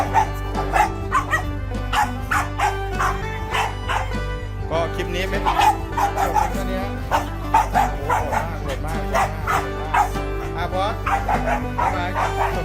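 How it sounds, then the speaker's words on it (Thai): A small pet dog barks repeatedly in short, high yips at a steady rhythm through the whole stretch, close and fairly loud, with a person speaking over it and a constant low hum underneath. "โอ้เห่าได้ด้วย นึกว่าเห่าไม่ได้"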